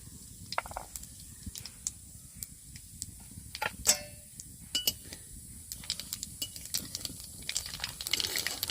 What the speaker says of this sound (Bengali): এই কালো জিরেগুলো দিয়ে দিচ্ছি ফোড়ন।